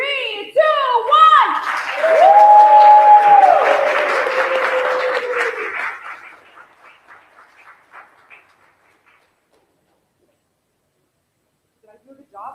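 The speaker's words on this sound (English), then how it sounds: "Can we cheer?" An audience at an education summit cheers and applauds, with loud whoops and clapping swelling together, then fading over several seconds into near silence.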